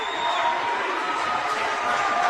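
Home crowd at a girls' high school basketball game rising to its feet, a steady loud roar of cheering voices filling a gym, with no single shout standing out.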